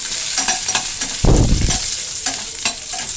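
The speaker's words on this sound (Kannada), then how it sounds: "ಜೀರಿಗೆ ಸಾಸಿವೆ ಎಲ್ಲ ಚೆನ್ನಾಗಿ ಸಿಡಿದು ಕರಿಬೇವು ಸೊಪ್ಪೆಲ್ಲ ಸ್ವಲ್ಪ ಫ್ರೈ ಆಗೋ ರೀತಿಯಾಗಿ ಲೋ ಫ್ಲೇಮಲ್ಲೇ ಇಟ್ಟು" Cumin, mustard seeds and curry leaves fry in oil over a low flame, giving a steady crackling sizzle with a louder burst of spluttering midway and a spoon stirring now and then; no one speaks.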